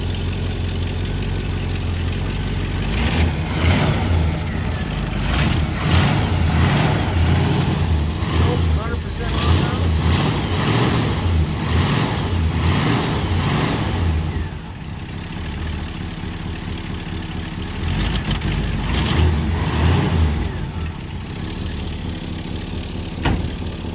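A classic 1956-era Chevrolet V8, cold after winter and running without choke, idles with a rough, uneven rumble and occasional blips of revving, while people talk close by over the engine.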